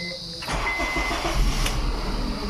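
A third-generation Honda CR-V with a K24 engine cranks and catches at a service job in Lingayen, Pangasinan, then settles into a steady, close, rumbling idle.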